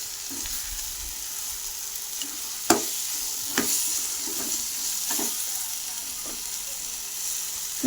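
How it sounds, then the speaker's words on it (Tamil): Potatoes sautéing in a pan make a steady, hissing sizzle throughout. A few sharp clinks and scrapes of a spoon stirring come through close by, and no one speaks. "உருளைக்கிழங்கு போட்டு மிக்ஸ் பண்ணிவிட்டு நான் வதக்க ஆரம்பிச்சிட்டேங்க."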